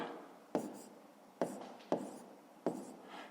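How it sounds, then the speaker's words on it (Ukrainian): A pen scratches on paper nearby, giving four short, soft strokes a second or so apart. Each begins with a crisp onset and fades quickly, with quiet gaps in between. "Запишу, записуємо так"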